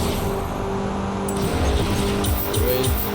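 A Porsche 944 Turbo being driven in Forza Horizon 3, its engine droning loudly and continuously, with brief tire squeal and a few higher-pitched bursts in the second half.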